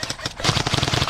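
Rapid automatic airsoft gunfire during an outdoor skirmish game, a fast rattling burst of closely spaced shots, loud and near throughout.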